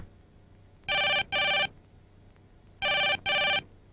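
A telephone rings in two double bursts, each pair of bright electronic trills separated by a short pause, clear and close in an otherwise quiet room.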